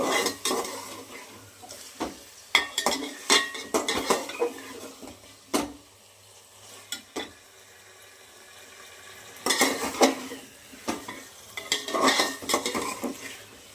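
Pangas fish and spices are stir-fried in a pan, with repeated bursts of a spatula scraping and clanking against the metal over a faint sizzle. Pauses separate the bursts, and no one speaks.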